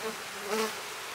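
Honey bees hum in a dense, steady buzz at an opened hive, close and even, with no voices.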